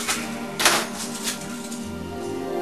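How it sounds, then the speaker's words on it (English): A knife slices through an onion on a cutting board, trimming off the root end and the opposite tip, giving a few crisp, close chopping taps with a sharp burst early on over low room hum. "all you want to do is cut that root end off, cut a little bit off the other end"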